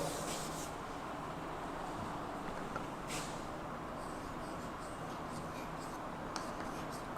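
Chalk or pen scratches steadily across a board as an equation is written out during a physics lecture on displacement current, a continuous dry rasping with no voice over it.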